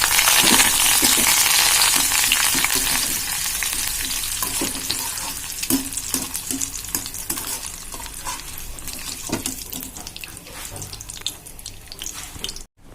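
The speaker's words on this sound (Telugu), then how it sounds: "ఇందులోనే కొద్దిగా కరివేపాకు వేయించాం" Curry leaves crackle and sizzle loudly in hot oil, a dense spitting hiss that settles into a steady sputter with stirring clinks.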